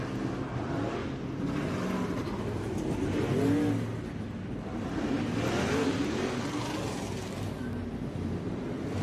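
Dirt late model race cars running hot laps at Florence Speedway, a continuous engine roar swelling and fading as the group circles the track at a moderate distance.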